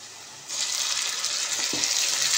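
Ginger garlic paste hits hot oil in a frying pan, setting off a sudden, steady hiss of close sizzling that starts abruptly and holds loud without letup.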